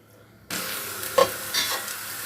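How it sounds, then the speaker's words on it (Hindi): Chopped onions hit a cup of hot oil and burst into a loud, steady sizzle after a moment of quiet, with a brief clink of stirring partway through. "इसमें मैंने 1 कप ऑयल डाल दिया और अब मैं जो प्याज था उसे मैंने बारीक काट लिया, वो उसमें डाल दूँगी"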